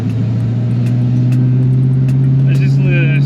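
A 1967 Ford GT Falcon's engine drones steadily and loud from inside the car while driving, a constant low hum with faint voices underneath.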